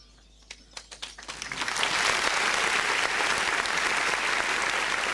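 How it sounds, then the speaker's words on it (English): Graduation ceremony crowd bursting into applause, a few scattered claps swelling quickly into loud sustained clapping from a large audience. "we deserve a round of applause"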